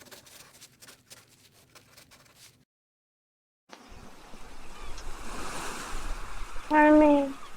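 Ocean waves wash up on a beach with a steady, broad rushing surf that builds after a brief silence, with a short tonal sound near the end.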